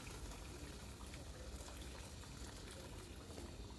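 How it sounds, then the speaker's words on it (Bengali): Hot water poured into a simmering Bengali potato curry (alur dom) in a pan, giving a continuous faint bubbling, hissing liquid sound with no talking. "এখন এর মধ্যে আমি গরম জল ऐड করে দেবো 1 কাপের মতো।"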